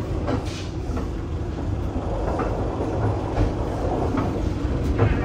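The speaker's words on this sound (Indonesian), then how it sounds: "Coba denger nih rangkaian kereta api Majapahit di ekonomi 3 ya." Majapahit economy-class train carriage rattling and clattering on the rails, a steady loud rumble with irregular metallic knocks and clicks, heard from inside the coach with no talk.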